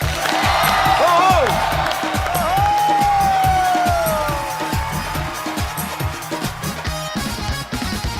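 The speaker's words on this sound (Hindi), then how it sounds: "आपकी जोरदार तालियों के बीच स्वागत कीजिए मिस्टर वसीम अकरम" A studio audience on a television comedy show applauds and cheers as a guest walks on, loud crowd noise layered under music with a rhythmic beat and a sustained tonal melody.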